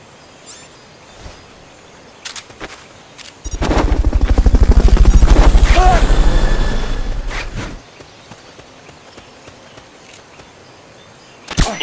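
A helicopter's rapid rotor thumping in the video game Metal Gear Solid: Peace Walker swells in for a few seconds, loud and close, then cuts away, leaving quiet with scattered faint clicks.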